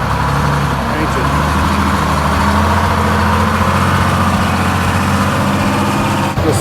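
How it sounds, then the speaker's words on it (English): An old GMC box trailer truck pulls in at an antique truck show on a rainy day in Macungie, Pennsylvania, its diesel engine a steady loud low rumble that stays close throughout. "There's a GMC coming in. This right here would be a box trailer GMC."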